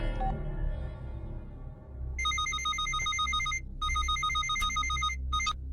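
A telephone rings while a call is being placed, in a Hindi film scene: repeated electronic ring bursts, loud and close, broken by short gaps over a low background hum.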